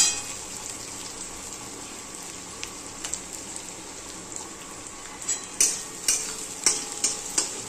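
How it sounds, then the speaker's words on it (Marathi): Peanuts roasting in a pan, a soft continuous sizzle with scattered sharp clicks and stirring scrapes that grow more frequent toward the end, close and alone. "थोडेसे शेंगदाणे टाकले त्याच्यामध्ये भाजायला."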